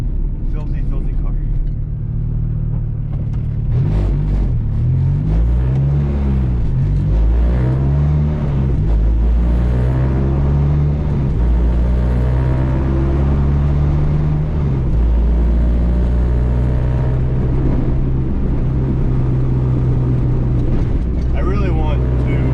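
A filthy Acura Integra with a swapped B20 engine revs loud and close from inside the car, with a steady exhaust drone and several rising-and-falling rev sweeps over about twenty seconds.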